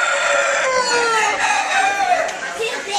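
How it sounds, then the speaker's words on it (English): Chickens clucking and crowing at a carnival, a busy overlapping flock of calls heard close and fairly loud throughout, with some voices mixed in. "Chickens are nasty."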